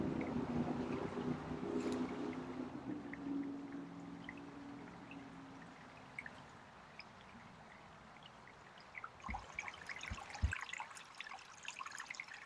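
A waterfall trickles and pours into a koi pond in a Japanese garden, a steady soft wash with no voices, easing off midway before a few small splashes and bird-like chirps near the end.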